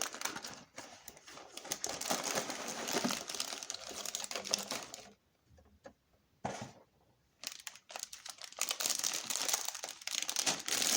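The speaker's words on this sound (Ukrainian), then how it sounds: "І нарешті коробка з кубиками Лего. Давайте її відкриємо." Crinkling and rustling of packaging as a LEGO box is opened, loud and close, with a brief quieter pause midway before the crackling resumes.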